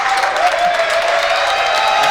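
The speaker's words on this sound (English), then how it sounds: "Fans are getting up, applauding this team for their performance." Basketball fans at Baxter Athletic Center rise and applaud the team near the end of a game, a steady, dense wash of clapping and crowd noise filling the arena without a break.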